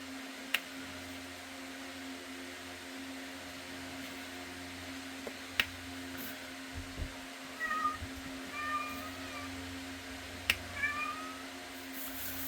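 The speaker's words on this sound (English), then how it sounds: "He is screaming out the windows to the other cats that are outside." An indoor cat calls out an open window toward other cats outside, giving several drawn-out, wavering meows in the second half over a steady hum of room noise, with a few sharp clicks scattered throughout.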